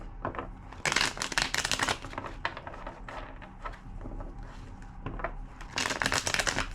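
Repeated bursts of cards being shuffled close up, riffling and flicking in quick rattling runs separated by short pauses.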